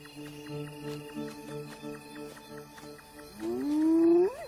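A male lion roars at night, close and growing louder: a steady series of low, grunting calls swells into one long, rising roar at the end, with no talk.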